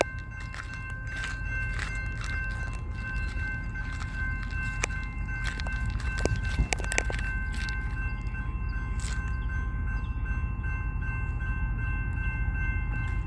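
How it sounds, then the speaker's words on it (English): Train rolling along railroad tracks at Sugar Creek, Missouri, a steady loud low rumble with wheel clatter and brief metallic clanks, continuous throughout with no talk. "We got one more train coming,"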